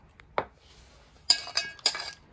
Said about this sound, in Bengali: ভালো করে এবার মেখে নেব।